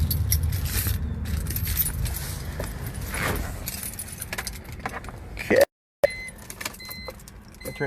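Car keys jangle and rattle during work on a 2003 BMW 325i windshield washer pump, a close metallic jingling over a steady background hum, broken by a brief gap near the end.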